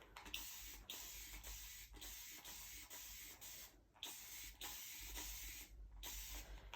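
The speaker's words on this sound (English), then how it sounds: "So this is just water, and I'm just going to spray it on here." Repeated bursts of plain water sprayed from a spray bottle onto a card during cardmaking, roughly a dozen short hissing pumps in an uneven rhythm, close and fairly quiet, with no talking.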